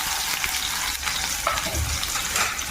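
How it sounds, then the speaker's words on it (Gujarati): Onions frying in oil with curry leaves for a Kathiyawadi sev tameta sabji, a steady close sizzle and crackle with light stirring scrapes throughout, no voices. "ડુંગળીને આપણે થોડી બ્રાઉન થવા દેવાની છે"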